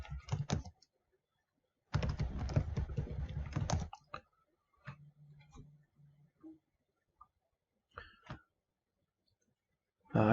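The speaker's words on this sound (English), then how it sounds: "And type the password." Typing a password on a computer keyboard: two bursts of rapid close key clicks, one brief and one about two seconds long, followed by a few scattered taps and clicks, with quiet talk in between.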